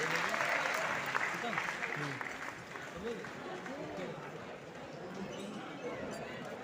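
Applause from a seminar audience in Lucknow greets technical achievers called to the stage, a dense steady patter with background voices and a tonal hum mixed in, moderately loud and fading slightly toward the end.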